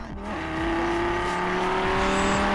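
Audi RS2 engine in Forza Horizon 4, set up in drift mode, heard as a loud, close engine drone that climbs in pitch as it revs up and holds a sustained high tone with some tire noise.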